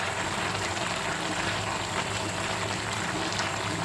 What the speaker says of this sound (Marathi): चांगली उकळी आली आहे.